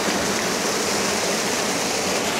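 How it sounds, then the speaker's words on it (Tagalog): Tatiao Falls in Silang, Cavite pours into a deep plunge pool, giving a dense, continuous roar of falling water that stays close and loud throughout, with no voices. "Malalim yung binabagsakan ng falls."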